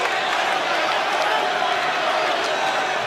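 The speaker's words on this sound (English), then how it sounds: "Crowd really baying here" A boxing crowd roars and bays in a steady, dense wall of cheering that stays loud and unbroken throughout, with no single voice standing out.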